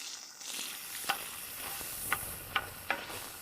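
Sweet onions softening in a preheated pan of leftover bacon fat give a steady close sizzle, broken by four sharp taps of a utensil stirring against the pan.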